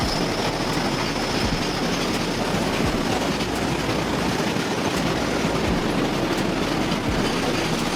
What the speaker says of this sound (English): This train carries fuel like oil and gas in big round tanks.